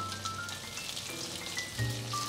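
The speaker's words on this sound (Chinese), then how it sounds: "锅内放入适量的油，油稍微热就可以放进来" Vegan tofu and carrot eggs fry in a pan of oil, giving off a soft, continuous crackle and sizzle with faint pops and light kitchen tones, heard close with no talking.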